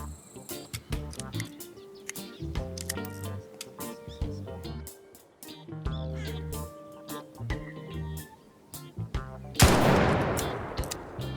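Stock Anvil rifle fired in the shooter game Arc Raiders, a run of sharp gunshots mixed with game music and effects, ending in a louder burst of noisy blast near the end.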